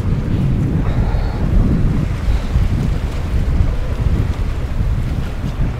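Waves washing against a rocky shore on Toronto Island, Canada, under heavy, steady wind rumble, close and fairly loud, with no voices.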